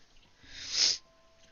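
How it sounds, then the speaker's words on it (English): One sharp, breathy sniffle, close and brief, rising quickly and cutting off. "I'm so sorry for all the sniffles, guys."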